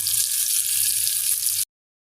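Sarpunti fish frying in a pan, a steady loud hiss and crackle of oil that cuts off abruptly after about a second and a half.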